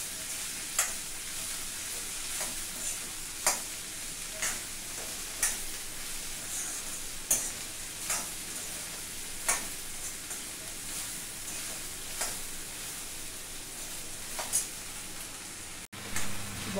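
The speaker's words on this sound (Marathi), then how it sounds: "चांगलं मिक्स करूया." Okra cooks in a pan with salt as a dry vegetable dish, a steady soft sizzle running throughout while a spoon scrapes and stirs in regular clicks and taps, close and fairly quiet.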